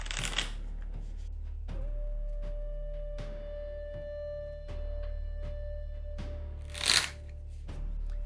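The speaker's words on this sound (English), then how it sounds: "Since we have a Shadow and Light deck with double the number of typical runes, we'll want to give 5 shuffles to fully randomize the deck." A Shadow and Light rune card deck, twice the usual size, is riffle-shuffled over and over, giving repeated close crisp flutters and soft taps with no talking.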